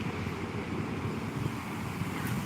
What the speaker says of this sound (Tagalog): Tingnan nyo guys, sarap ng hangin dito.